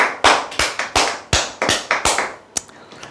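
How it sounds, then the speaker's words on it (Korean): Hands clap in a loose, rhythmic series of about nine sharp, close claps, each with a short ringing decay, fading out near the end with no talk. "네, 박수 한번 치시죠."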